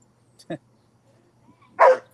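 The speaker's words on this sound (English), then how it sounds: "She's throwing the ball with the dog, and the dog goes ballistic on the ball." A dog excited by a thrown ball gives a couple of short, sharp barks spaced well apart, fairly close in an otherwise quiet room.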